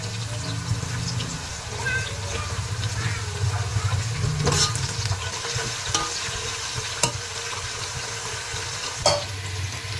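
Onions frying in oil in a pan for chicken biryani, a steady close sizzle with occasional stirring scrapes and clinks throughout, no talk.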